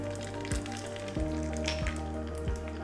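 Asafoetida sizzles in hot oil already holding mustard seeds, cumin and red chillies, giving a faint, steady crackle and hiss with a few soft thumps spaced through it.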